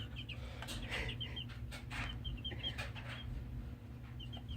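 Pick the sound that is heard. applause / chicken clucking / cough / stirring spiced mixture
chicken clucking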